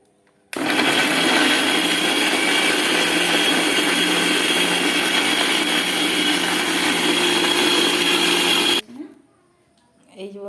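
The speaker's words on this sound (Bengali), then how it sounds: "চলো এটা এখন বেটে নিই" An electric grinder runs loud and close for about eight seconds, whirring continuously while it grinds dried chilli, cumin, ginger and tomato into a paste, then stops abruptly.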